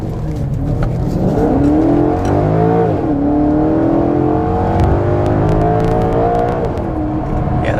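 A 2014 Maserati GranTurismo Sport accelerates hard, its engine revving loudly and climbing through gears with rising and falling pitch, close up and continuous without talk.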